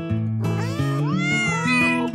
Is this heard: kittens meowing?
yes